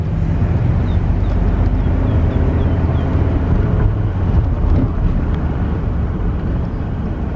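A 1999 Chevy Express Starcraft wheelchair conversion van on the road, heard from inside as a loud, steady low engine and road rumble with wind noise, continuous throughout and without talk.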